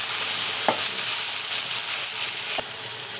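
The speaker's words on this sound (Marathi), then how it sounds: "वांगे टाकल्याच्यानंतर असताना आपण मस्त परतून घेणार आपण" Brinjal stir-frying in a pan for a Maharashtrian vegetable dish gives a steady, close sizzle and hiss, with a couple of light spatula clicks against the pan and no voices.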